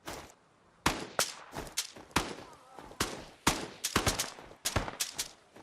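A G3 rifle firing M62 tracer rounds in the shooter game ExfilZone, with about a dozen sharp, loud reports in irregular bursts separated by brief gaps, some shots coming in quick pairs.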